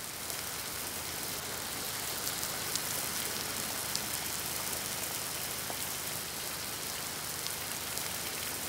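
Rain pours over the Janghang wetland in a continuous broad hiss, with occasional nearer drops pattering through the constant wash and no one speaking.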